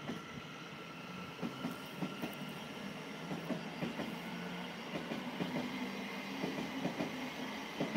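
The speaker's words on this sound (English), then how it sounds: "Oh, we can watch the trains." A train rumbles past on the rails with rhythmic clickety-clack from the wheels, steady and moderately close, no voices.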